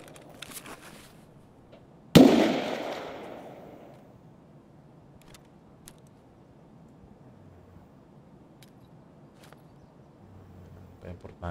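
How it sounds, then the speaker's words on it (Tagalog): A single sharp gunshot in Escape from Tarkov on the Customs map cracks out at mid-distance, trailing a rolling echo that fades over about two seconds, then quiet ambience follows. "Hindi ko alam kung saan yung bumabaril."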